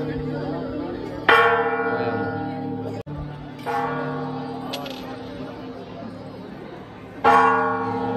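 A bell at the Sri Venkateshwara Swamy hilltop temple in Manepally Hills, Bhuvanagiri, is struck three times, each loud clang ringing out and slowly fading. Faint voices murmur in the background.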